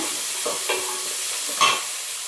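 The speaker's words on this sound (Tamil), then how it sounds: "ஸோ இப்போ சின்ன வெங்காயம் கொஞ்சம் வதக்கிட்டு இருக்கேன்" Small onions (shallots) sautéing in a pan for a homemade kudal gravy, with a steady close sizzle and a few soft stirring scrapes over the frying hiss.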